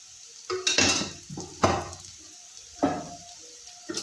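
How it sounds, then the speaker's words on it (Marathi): Samosa filling frying in oil in a pan, stirred with a spoon: a few distinct scraping clatters against the metal pan over a soft, low sizzle, close up with no talk. "आणि मस्त छान असं हलवून घ्यायचं मिश्रणाला"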